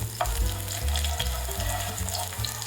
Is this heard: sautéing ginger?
yes